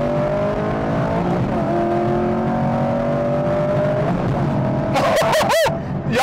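A 6th gen Chevrolet Camaro accelerates hard, its engine note climbing in pitch through a sweep, then a no-lift gear shift brings a sharp drop and re-climb, loud and close with no talk.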